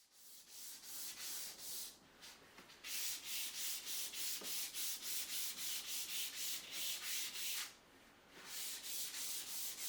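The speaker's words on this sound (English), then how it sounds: "It's about 30 seconds of sanding at the most." Rhythmic hand sanding on wood, quick back-and-forth rasping strokes close by, with two brief pauses in the steady scrubbing.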